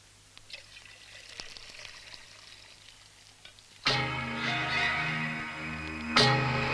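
Tea is poured from a height in a steady liquid stream, entering abruptly and running loud and continuous for a couple of seconds, with a brief surge near the end, after a quieter stretch of low room noise.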